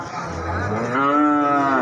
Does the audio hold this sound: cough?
no